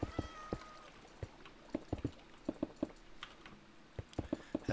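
A cat meows in the Minecraft video game, a short meow early on, followed by sharp clicks of keyboard and mouse tapping unevenly throughout, with no voice.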